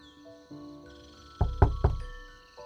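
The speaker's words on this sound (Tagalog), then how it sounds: "nagising ako sa isang malakas na katok mula sa labas" Loud knocking on a door from outside, three heavy thumping knocks in quick succession after a quieter tonal background, fairly close and clear with no talk.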